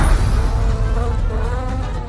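A cartoonish bee takes off and flies, its steady close buzzing drone with wavering pitch filling the short moment without pause.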